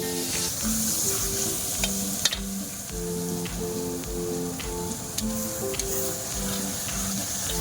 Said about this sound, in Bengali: মশলা কষানো চলছে